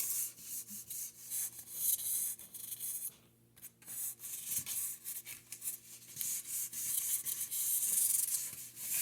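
Sandpaper rubs back and forth against a model railway road surface in rapid, rhythmic strokes, close by, with a brief pause midway.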